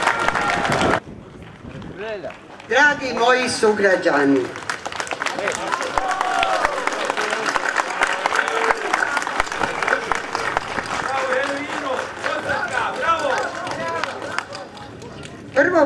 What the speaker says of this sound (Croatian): Pozdravite je velikim aplauzom.